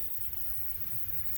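Water flows in a creek down in a desert canyon. It makes a faint, steady wash of low rushing and trickling that runs through the whole stretch, with no voices over it.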